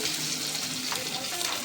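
Bangda mackerel fries in a pan with a steady, close crackling sizzle and a few light scrapes, continuous throughout with no talking.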